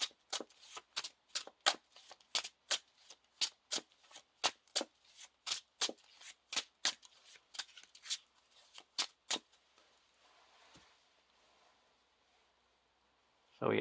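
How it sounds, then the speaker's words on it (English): A deck of playing cards being shuffled during a card game, heard as a steady series of sharp, close riffling snaps about twice per second that stops abruptly, followed by faint rustling and near silence. "shuffle my discard pile into my deck"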